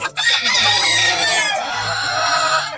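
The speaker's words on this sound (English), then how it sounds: "This is a Bumblefoot Gray single mated pen with a gray rooster and a black hen," A Bumblefoot Gray rooster crows loudly and close in a single mated pen, its long drawn-out call running for nearly the whole stretch while a black hen clucks softly underneath.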